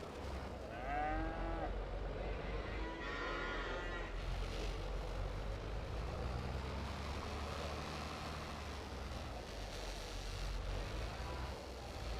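Cattle in a farming video game moo twice, with long, drawn-out calls close together near the start, over a steady low rumble of farm machinery that continues after the moos stop.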